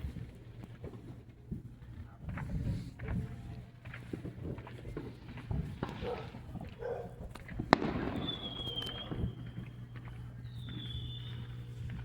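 Fourth of July fireworks pop and crack at a distance, scattered bursts with one sharp bang and a couple of whistling rises, fairly faint over background rumble.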